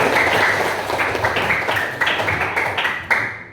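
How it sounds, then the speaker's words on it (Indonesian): Classroom students clap for a classmate who answered a question, a brisk round of many hands with pulsing bursts that thins toward the end and stops abruptly. "tepuk tangan dulu untuk temannya"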